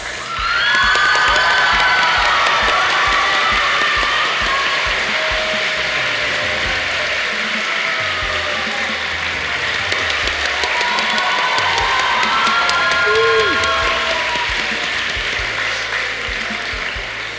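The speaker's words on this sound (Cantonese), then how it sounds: "多謝你哋嘅掌聲" A school audience at the close of a musical theatre performance claps loudly and cheers, with children shouting and whooping over dense rattling applause that stays strong for the whole stretch.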